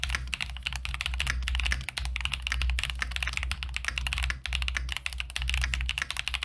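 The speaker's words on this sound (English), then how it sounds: "I'll give you a quick little sound test here of how they sound for typing." Rapid, steady typing on an EPOMAKER TH80 SE mechanical keyboard with Wisteria linear switches, a dense stream of close, crisp key clacks with a deeper thock, no speech.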